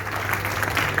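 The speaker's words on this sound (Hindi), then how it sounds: "जोरदार तालियां।" A short burst of crowd clapping at a college event in Jaipur welcoming an invited guest, dense and even throughout, with no voices over it.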